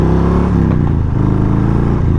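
Harley-Davidson Street Bob 114 motorcycle shifting into second gear, with a loud, steady engine drone and a brief dip in the exhaust note as the clutch is pulled, then a continuous low rumble.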